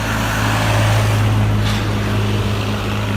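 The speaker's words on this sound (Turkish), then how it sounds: "Şansımıza da traktör geçti." A tractor drives past in front of a petrol station, its engine a loud, close, droning hum with a low steady tone that swells briefly and then holds.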